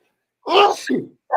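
One sharp, close sneeze bursts out suddenly, followed by a brief trailing exhale and a short vocal sound after a pause.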